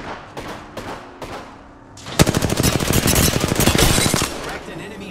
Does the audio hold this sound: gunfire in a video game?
yes